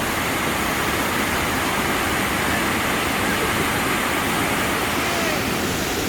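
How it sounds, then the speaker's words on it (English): A waterfall in the Kimberley, on the Gibb River Road, roars steadily and loudly, a dense continuous rush of falling water with no pauses. "That is a beautiful waterfall, that one."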